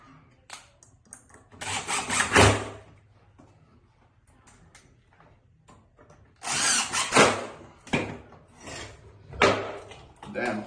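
A power drill drives flat head screws into a bracket on the bottom edge of an RD, with two loud whirring bursts separated by quieter shuffling and light handling noise.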